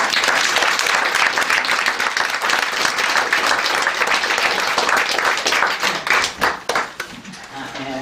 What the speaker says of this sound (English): So my sister, I want to applaud you.